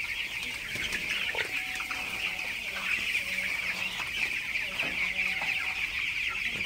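Broiler chickens in a poultry shed at night, a flock clucking continuously with overlapping calls and a constant high chorus of chirps, near and steady.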